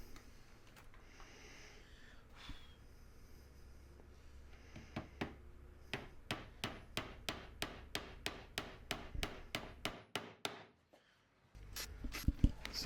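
Small brad nails being hammered into a wooden frame: a rapid regular series of about fifteen sharp, fairly close taps, a short pause, then a few more hits.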